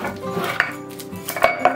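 Metal Cola Cao tins, used for storing oil, clink and clatter close by as they are handled and cleared out of a kitchen cupboard, with several sharp knocks over quiet room tone.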